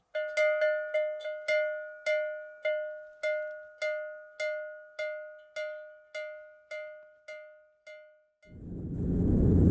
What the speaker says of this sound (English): I so longed to hear the ringing of a bell.